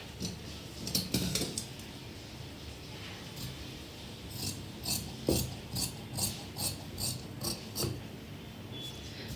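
Chalk or a marker scrapes and rubs across shirt fabric laid out for cutting, a series of short close scratchy strokes that come in quicker rhythmic bursts toward the end, with no voices.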